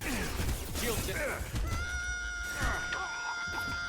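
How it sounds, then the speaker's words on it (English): A woman screams in the game Mass Effect 2, a shrill wavering cry that rises and falls over loud game sounds, with a player's voice talking over part of it. "Scream a little louder, lady."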